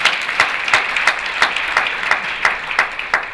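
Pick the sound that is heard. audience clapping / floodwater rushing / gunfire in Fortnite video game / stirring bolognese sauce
audience clapping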